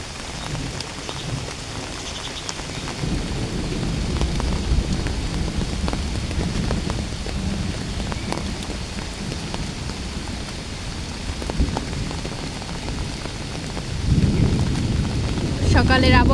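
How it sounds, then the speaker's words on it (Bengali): Heavy rain pouring over a lychee orchard on a stormy morning, a dense steady hiss with occasional drops and a low thunder rumble building toward the end. "দেখতে পাচ্ছেন সকাল থেকে অনেক বৃষ্টি, কালকে রাত্রেও অনেক বৃষ্টি হয়েছে।"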